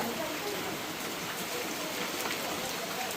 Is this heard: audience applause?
no